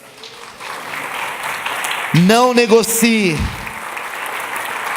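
A church congregation claps in sustained applause that swells and fills the room, while a voice briefly speaks over it near the middle.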